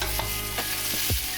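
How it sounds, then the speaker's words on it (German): Spices and ginger sizzle and crackle in a hot pan for mango chutney, a steady frying hiss broken by a few soft stirring scrapes, close and alone with no voices. "Erst die Gewürze und den Ingwer kurz anbraten, bis er nicht mal roh riecht."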